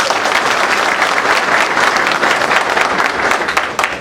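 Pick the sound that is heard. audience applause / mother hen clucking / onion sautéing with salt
audience applause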